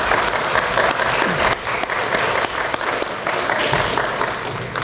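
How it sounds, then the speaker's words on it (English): Dense, loud applause from diners at a high school recognition dinner, thanking the catering crew, a steady wash of many hands clapping with crowd noise throughout the room. "a round of applause for a great dinner?"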